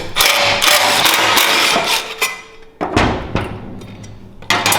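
Hand tools work on the side heat shields of a Duromax 500cc engine, with ratcheting clicks, metallic clanks and a few thuds, loud and close with no talking.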